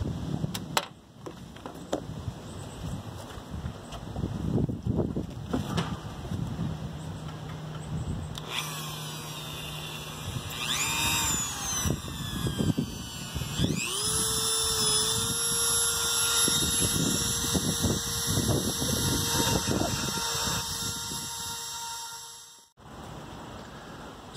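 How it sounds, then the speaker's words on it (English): A Dremel rotary tool cuts servo holes into the foam wing of a ZOHD Nano Talon EVO RC plane, whining loudly and steadily for most of the span, with pitch rising and dropping as it bites into the foam. "And yeah, we can start Dremeling."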